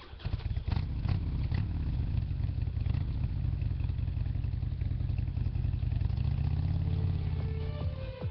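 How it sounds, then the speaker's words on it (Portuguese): A motorcycle sound effect played during a Christmas church play: a steady, loud mid-pitched engine rumble with clattering, holding throughout as the bike rides off, with no talk over it. "O duque pegou a sua moto e partiu para o gueto dos escravos."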